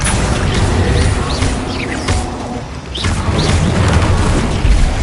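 A Bombarda spell explosion from Hogwarts Legacy gives heavy, close booms and crashing bursts, with sharp hits near the middle and end amid busy game sounds and faint chirps, and no one speaking.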